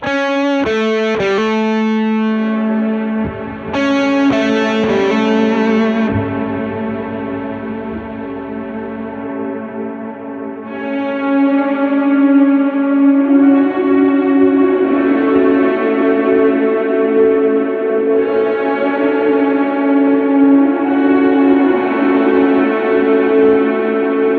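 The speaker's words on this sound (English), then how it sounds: "you can get swells doing this, and having the drive going into the reverb" Electric guitar notes swell in gradually with distortion driven into reverb, sustaining into thick, echoing shoegaze-style tones over a long stretch.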